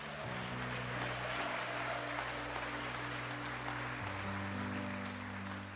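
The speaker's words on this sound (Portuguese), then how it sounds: "Se você pode, aplaude e glorifique o Senhor" A church congregation applauds and praises, heard faintly as a soft, rain-like wash of clapping under a steady low hum and sustained tones, unbroken for several seconds.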